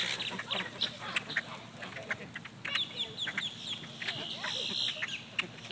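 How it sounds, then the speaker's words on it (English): Ducks quack and chatter as a little girl throws them food, a busy flock of overlapping calls at middle distance with voices mixed in. "Them ugly ducks."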